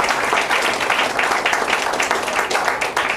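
Church congregation claps together for online viewers, a brisk, fairly close burst of many hands with slight rhythmic pulsing, steady and loud across the short stretch.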